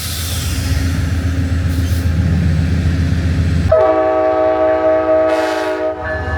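The Sunset Limited passenger train rumbles nearby near El Paso, then a loud, sustained horn blasts partway through and holds its harmonic tone until the end.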